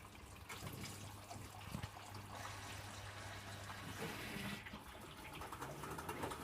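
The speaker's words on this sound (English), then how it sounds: "did it just dump out a load of water then?" An Electrolux W455H commercial washing machine dumping water, a soft trickling, gushing flow heard faintly under a low hum with a couple of small knocks.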